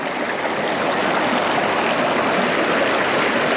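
Small river at White River Falls runs in a steady, even rush of flowing water, close and continuous, with no voices.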